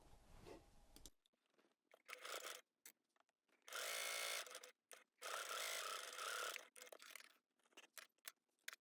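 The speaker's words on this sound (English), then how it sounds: "we're going to sew these edges with a 1 centimetre or 3/8 of an inch seam allowance" A sewing machine stitches the edges of a lined pencil case in several bursts of whirring, with short pauses between runs and two longer sustained stretches of stitching, close and clear with no talking.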